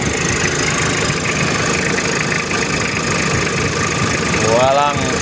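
A 29-year-old Toyota Tamaraw FX engine idles close by with a steady, slightly knocking mechanical chug, continuous and fairly loud, with a brief voice near the end.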